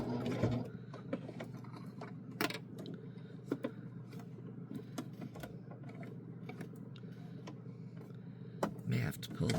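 Sewing machine stitching a scrappy fabric bookmark, a quiet steady mechanical whir with a low hum and scattered sharp ticks and clicks throughout, fairly faint and close.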